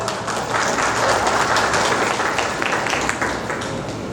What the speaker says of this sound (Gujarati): તેમને તાળીઓના ગડગડાટથી વધાવી લઈએ.